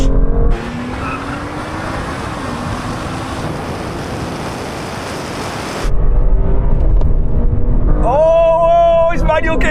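A car launches from a standstill in a loud, close burst of engine roar, then tires squeal in rising, wavering tones as it accelerates, with excited voices talking over it.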